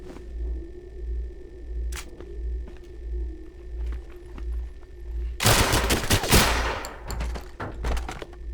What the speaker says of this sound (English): Shotgun does some damage, though.